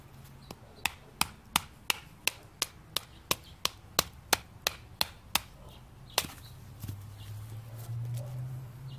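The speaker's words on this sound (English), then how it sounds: "Nice split right there. That's black walnut, so it's a hardwood." A knife is batoned through black walnut hardwood, giving a steady run of sharp, evenly spaced wooden strikes about every half second, close and loud, before a low hum takes over near the end.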